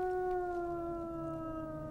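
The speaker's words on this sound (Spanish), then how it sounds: "¡Es solo un perro!" A long, steady dog-like howl from a TV drama, one sustained tonal cry held close and loud, fading slightly at the end with no talking.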